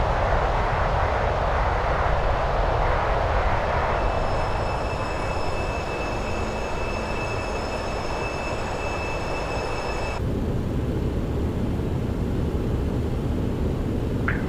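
Jet engines of a TFDi Design MD-11 airliner in Microsoft Flight Simulator, heard from behind as a loud, steady broadband roar with faint high whining tones that fade out partway, leaving a lower continuous rumble.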